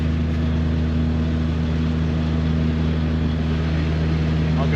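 A 700hp 4.2L turbocharged Chevrolet Trailblazer in four-wheel drive gives off a steady, loud engine and exhaust drone with a deep low hum, heard from inside the vehicle for the whole stretch.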